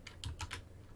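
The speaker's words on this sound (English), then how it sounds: "I'm going to type in" A handful of quiet keystrokes on a computer keyboard, four or five soft clicks in quick succession, close and alone.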